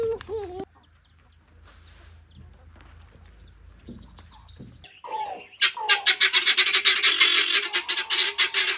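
A hen clucks in a rapid, rhythmic run of loud, close calls toward the end, after quieter stretches of faint chirps and bird sounds, with no talk over it.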